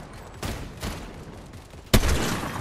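Shots ring out during a video game shooter match, with two soft bursts early on followed by a sharp, louder blast near the end over a steady background of game noise.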